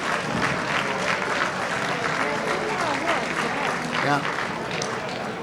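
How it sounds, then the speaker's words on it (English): Sustained applause from a large crowd at a Greek Independence Day gala in a ballroom, steady and dense throughout, with voices and cheering mixed in and a brief spoken word. "Round of applause for our Grand Marshals and the Parade Committee."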